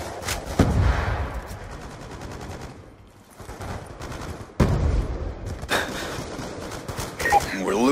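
Bursts of gunfire in Call of Duty Black Ops 2, several loud sharp volleys at irregular intervals between quieter battlefield noise, with excited voices in the background.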